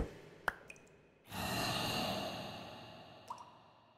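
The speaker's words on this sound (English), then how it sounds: "I don't like that water dripping." Faint water drips fall in a dark cave in a horror-modded Minecraft game, a few sparse, sharp drops set against a long, breathy exhale.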